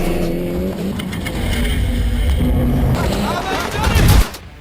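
The SIERRA race car at Pikes Peak roars close by as it charges toward a jump, engine droning steadily and then surging to a louder peak near the end before cutting off, with crowd and voices mixed underneath.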